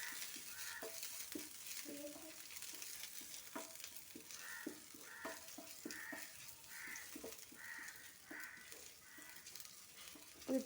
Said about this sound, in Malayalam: നമുക്ക് ഇഞ്ചിയും വെളുത്തുള്ളി ഇടാം. എന്നിട്ട് ഒന്ന് ചെറുതായിട്ട് വഴറ്റിയെടുക്കാം.